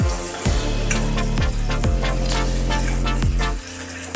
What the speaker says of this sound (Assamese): জিৰা দি তাত আলুখিনি দি দিলোঁ আলুখিনি দি এতিয়া আলুখিনি ভাজি ল'ম অকণমান